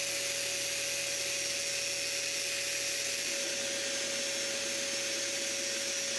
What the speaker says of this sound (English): When that's done, I sand the profiles and the panels.